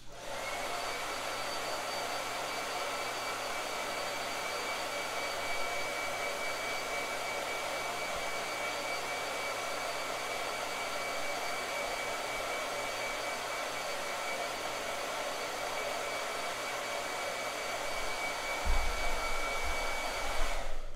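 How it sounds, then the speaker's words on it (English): A hair dryer blows on watercolor paint, its steady whirring roar running continuously and close for the whole stretch, with a brief low rumble near the end and no voices. "If you use the hairdryer after each layer, how do you blend the colors?"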